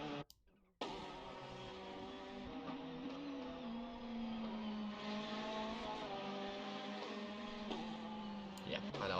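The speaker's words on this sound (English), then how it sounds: "these sort of weird downshift noises" Race car in a Sentul qualifying session downshifting through the gears, a loud close engine drone with stepped pitch drops and brief revs, steady throughout after a short cut near the start.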